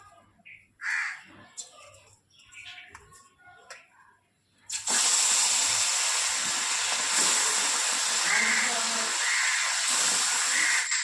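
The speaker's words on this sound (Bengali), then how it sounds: "তো চলো মাছটা ভেজে নিই" Fish sizzles loudly in hot oil in a pan, a dense, steady crackling hiss that starts suddenly after a few seconds of quieter kitchen sounds and continues without a break.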